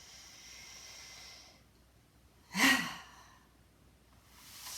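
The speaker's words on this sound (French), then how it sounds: "Allez, une grande respiration." A single deep breath taken during a stretching exercise, one sharp airy exhale that stands alone between quiet gaps, with faint breathy noise before and after.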